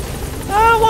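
Helicopter rotor noise in the video game Metal Gear Solid V, a loud close whirring rumble with a rising tonal whine, mixed with voices.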